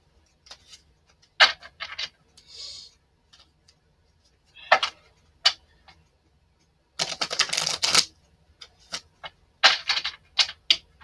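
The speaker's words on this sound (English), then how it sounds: "let's shuffle these up real quick" A deck of cards being shuffled by hand, with short bursts of crisp flicking and riffling separated by quiet gaps, including one longer rapid riffle, heard up close.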